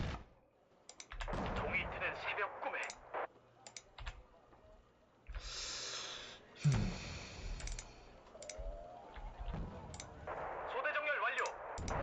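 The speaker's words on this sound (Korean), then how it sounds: "폭발 성공" Artillery fire and explosions in the Wargame: Red Dragon video game, set in a Second Korean War scenario: scattered clicks, a rushing broadband blast and a low thud midway, then more rumbling bursts, with a voice faintly underneath.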